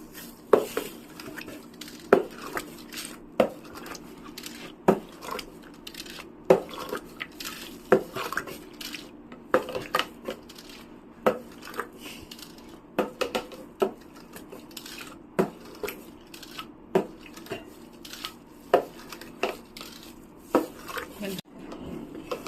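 Metal spoon mixing and scraping thick shrikhand against the sides of a bowl, with repeated sharp clinks and scrapes in an irregular rhythm, fairly close and moderately loud, with no talk over them.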